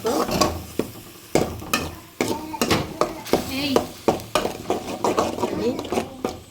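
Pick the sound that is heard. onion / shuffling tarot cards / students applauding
onion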